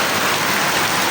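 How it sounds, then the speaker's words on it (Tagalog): Steady rain falls continuously on a flooding street, a dense, even hiss at constant loudness with no voices. "Konting ulan pa lang yan."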